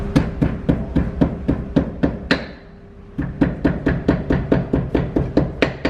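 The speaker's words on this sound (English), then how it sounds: "So first we need to break the outer fibers by using the hammer." A hammer strikes slices of papyrus stalk in a steady, rapid rhythm, roughly four blows a second, loud and close. The beating pauses briefly partway through, then resumes at the same pace.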